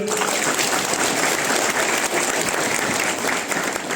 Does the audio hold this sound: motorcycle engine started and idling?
no